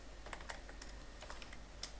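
A computer keyboard clicks as C code is typed, with quick, uneven, faint keystrokes close by in a quiet room and no talking.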